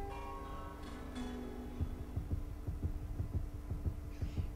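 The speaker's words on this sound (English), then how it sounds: "The heartbeats that I hear are not very welcome" Heartbeat sound effect in the horror video game Empty Soul: low, steady double-thump pulses begin after a humming start and repeat rhythmically, close and clear.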